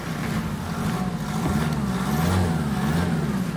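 Car engine revving hard nearby, a loud, sustained rough drone that rises and swells in pitch midway before settling, heard alone without talk.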